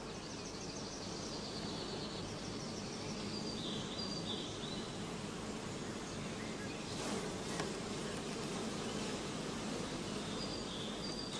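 Honey bees buzz from a colony whose adult population has been reduced and whose combs hold varroa-infested drone brood. A dense, continuous hum of many bees runs fairly quietly and evenly throughout, with no voices.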